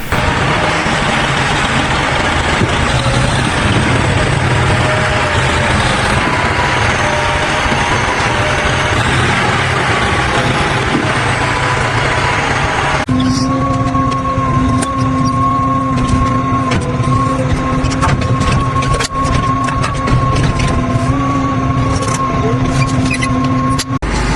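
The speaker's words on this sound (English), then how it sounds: "muck bucket on, ready to scrape out the muck passages" A tractor with a muck bucket rumbles steadily nearby for the whole stretch, scraping and clattering along the hard floor of a cow shed's muck passage, the tone shifting partway through.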